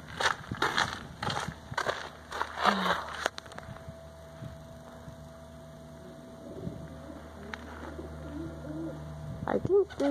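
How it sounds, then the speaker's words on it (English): A pigeon coos softly a few times in an outdoor spot in Casa Grande, Arizona, amid scattered taps, clatter and a faint background hum. "there's a pigeon or something."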